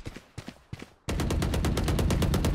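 Gunfire in the game Valorant: a few separated shots, then a sudden dense burst of rapid repeated firing that stays loud and continuous to the end.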